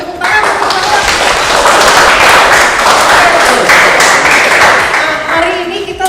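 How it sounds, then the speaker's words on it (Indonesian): Students in a classroom clap their hands together, loud and close, with a dense burst of claps that swells and then tapers off, a few voices mixed in. "Kita beri tepuk tangan"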